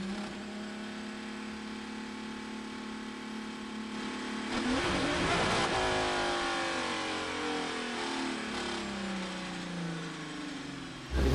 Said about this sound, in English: We heard him release the speed limiter and then grab a gear, and now they're trying to cycle through to restart the engine.